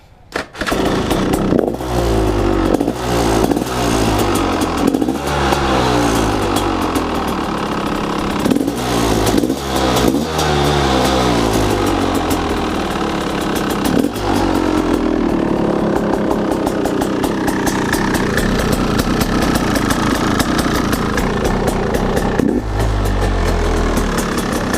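A Husaberg TE250 dirt bike fitted with an FMF shorty silencer runs close by, with sharp revving blips early on before it settles into a steady, loud two-stroke idle that carries on alone.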